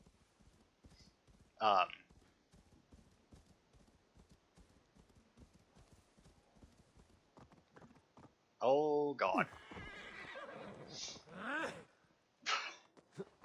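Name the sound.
horse hooves and neigh in video game Assassin's Creed Valhalla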